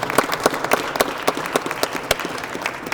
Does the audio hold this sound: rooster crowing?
no